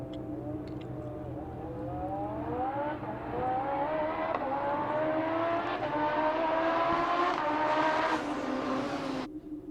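A Hyundai race car engine in a racing video game revs steadily higher through its gears, a continuous rising whine held loud before cutting off abruptly.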